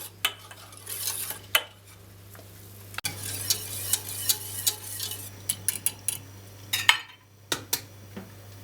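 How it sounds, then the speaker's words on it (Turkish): Cake cream mixture with starch being whisked in a pot on the stove, a steady run of quick metallic scrapes and clinks against the pot, with short pauses, up close and alone. "Güzelce çırpalım şimdi."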